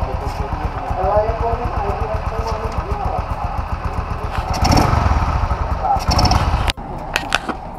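A 100cc mini motorbike with its original exhaust idles close by in a steady putter, with a brief rev partway through, as people talk over it.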